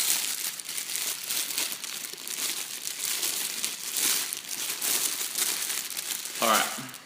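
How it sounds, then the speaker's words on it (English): Plastic wrapping being pulled off newly unpacked brushed-chrome interior lights, a steady close crinkling and rustling that runs throughout, with a slightly louder burst of handling near the end. "Wrapped in a bit of plastic, so I'll just undo this."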